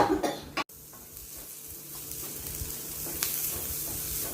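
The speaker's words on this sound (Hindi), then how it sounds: "हमारे प्याज स्टर फ्राई हो रहे हैं।" Chopped onions stir-fry in a hot pan for vegetable spring roll stuffing, a steady close sizzle with occasional stirring scrapes, opening with a short cough.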